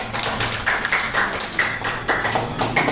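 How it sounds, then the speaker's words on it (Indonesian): Schoolchildren in a classroom clap for one another after a song about saving energy, the claps falling in a fairly regular rhythm of sharp, close bursts, with a little low background noise. "tepuk tangan untuk kalian semua ya"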